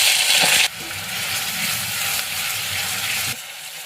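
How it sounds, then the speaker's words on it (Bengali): Onion paste with bay leaf, whole cumin and garam masala fries in hot oil, a loud, close, steady sizzle that drops in level after a brief stir and cuts off near the end. "পেঁয়াজটাকে একটু লাল লাল করে ভেজে নিই।"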